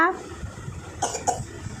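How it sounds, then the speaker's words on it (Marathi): A child's short coughs, two quick bursts about a second in, close by and moderately loud, with faint background murmur. "काय खोकला झाला तुला"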